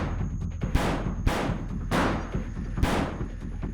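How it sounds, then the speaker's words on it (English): Five gunshots from a handgun ring out one after another in a steady rhythm, each a sharp loud crack with a trailing decay over a constant rumbling background. "One after another, the shots ring out."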